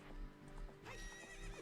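A horse being ridden in The Legend of Zelda: Ocarina of Time gives quiet, rhythmic clip-clop hoofbeats. A soft whinny comes in partway, and everything stays low in level with no talk.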